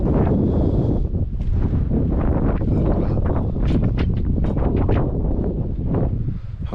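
Strong wind buffets an outdoor microphone at Steep Point, Western Australia, a steady loud rumble with rustling gusts throughout and no talking.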